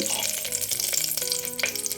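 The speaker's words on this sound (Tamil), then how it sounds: "நான் குக்கரில் எண்ணெய் ஊற்றி வச்சுருக்கேன் இந்த பிரியாணி இலையை இப்போ போட்டுடலாம்" Steady crackling sizzle of a bay leaf frying in hot oil in a pressure cooker, close by and fairly loud, with occasional soft clinks and no talking.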